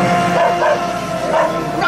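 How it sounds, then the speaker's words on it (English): Dogs bark and yip in the Sorcerers of the Magic Kingdom game at Main Street U.S.A. The barking is continuous and overlapping under a busy game soundscape. "those dogs is getting vicious"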